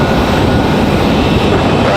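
An Icelandair airliner arriving from Reykjavik lands at Raleigh-Durham airport, giving a loud, steady broadband roar that stays even and close throughout the short stretch.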